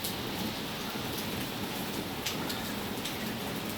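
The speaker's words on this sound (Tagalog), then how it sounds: "Kanina pa kasi umulan dito, eh. Walang hinto ang ulan." Steady, dense hiss of rain falling continuously, with a few brighter drips standing out now and then; no voices.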